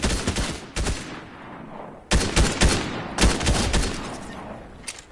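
Bursts of gunfire in the Fortnite video game, several clusters of rapid, loud shots separated by short pauses, with a booming low end.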